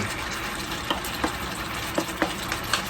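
Pork and kimchi stir-frying in a pan, a loud continuous sizzle broken by a regular series of short scraping stirs.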